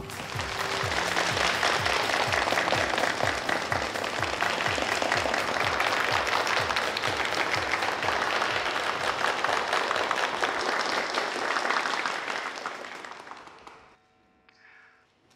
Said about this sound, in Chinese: 掌声有请刘光耀总经理和我们蓝之星品牌的设计师蓝星小姐上场。